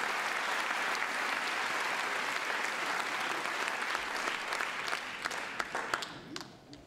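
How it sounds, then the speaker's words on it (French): An audience at a large public political meeting in a hall applauds loudly and continuously, a dense wash of many hands clapping that thins into scattered claps and fades at the end. "vous pouvez applaudir encore une fois l'ensemble de mes collègues"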